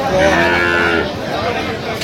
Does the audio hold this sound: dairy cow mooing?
yes